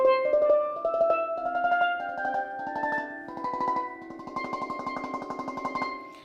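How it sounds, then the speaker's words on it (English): Steel pan running a scale an octave higher, notes played with rapid tremolo rolls that shimmer as they climb, bright and close with no voices. "Now I'm going to play another octave up so you can hear the register shift."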